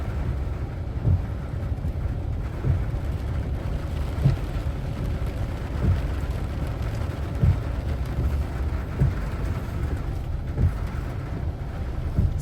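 Heavy rain driven by storm wind over Vientiane, Laos: a dense, steady roar of downpour with recurring dull low thuds, no voices.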